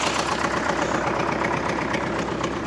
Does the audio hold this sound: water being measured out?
no